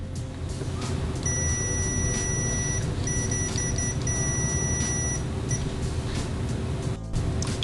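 An ALLSUN 3085A multimeter's continuity beeper gives a thin, steady high-pitched tone in a few sustained bursts with short gaps, fairly quiet over a constant background hum.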